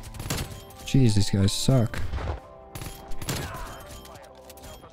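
Diamatti pistols in Call of Duty fire in rapid bursts of gunfire alongside game sounds, while a player speaks over the action.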